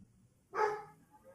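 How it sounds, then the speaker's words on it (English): A single short dog bark, close and moderately loud, rising out of near silence. "Bark."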